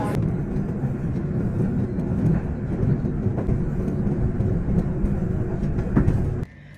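Steady rumble of a passenger train in motion, continuous and fairly loud with occasional clanks, cutting off abruptly near the end.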